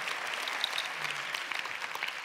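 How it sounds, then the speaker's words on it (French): An audience at the opening of a French conference applauds, a dense, even wash of many hands clapping, close and steady for a couple of seconds with no talk over it. "vous pouvez vous applaudir, oui, applaudissez-vous"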